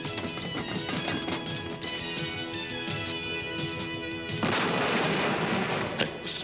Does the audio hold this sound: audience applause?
no